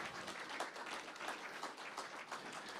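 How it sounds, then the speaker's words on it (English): A small showcase audience claps, the dense patter of hands faint and distant, as though picked up from across a room. "Sweet, you clap again."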